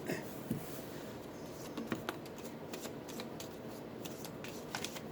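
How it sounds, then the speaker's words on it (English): Oracle cards are shuffled and drawn for a grief-healing reading, close and steady riffling with soft flicks and snaps of individual cards slapping together throughout, without any voices. "So I'm going to pull 5 cards from there."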